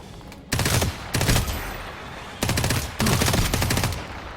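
Rare automatic weapon in the Dysterra shooter firing in two long, rapid bursts, loud and close, with brief pauses between volleys.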